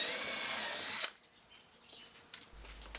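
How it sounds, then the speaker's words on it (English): A power drill whines loudly as it bores a pilot hole through a wooden pallet trestle into the apron of a workbench frame, running steadily for about a second before stopping, followed by quiet handling noises. "then drill a pilot hole through the trestle in the apron"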